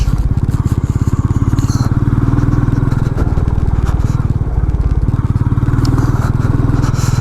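A Royal Enfield Meteor 350 single-cylinder motorcycle ridden off road, its engine thumping in a rapid steady rhythm close up, with rattles and scrapes from the rough ground.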